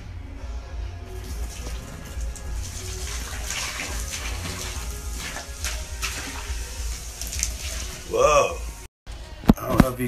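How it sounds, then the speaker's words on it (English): Dirty water gurgling and draining slowly from a clogged drain after boiling water was poured in, a steady wet rush with a louder gurgle near the end, with someone talking over it. "But looks like it's trying to drain."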